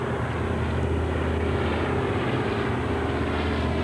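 A propeller aircraft flies past at an airshow flypast at Heathrow Airport's 50th anniversary, its engine a steady, broad drone that holds at the same level throughout.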